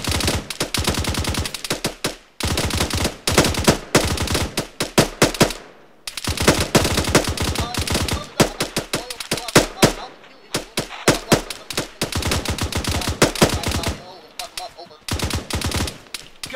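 Rapid machine gun bursts in the Arma 3 video game, loud and close, firing in long rattling strings broken by short pauses, with occasional louder single shots mixed in.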